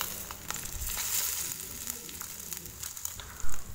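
Mustard seeds tempering in hot oil with dried red chillies and curry leaves, a steady close sizzle with scattered pops and crackles, and one louder thump near the end.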